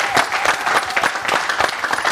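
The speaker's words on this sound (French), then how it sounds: "Je voudrais qu'on applaudisse pour l'équipe technique" Audience applause for a show's technical team, a dense, steady wash of many hands clapping close by without pause.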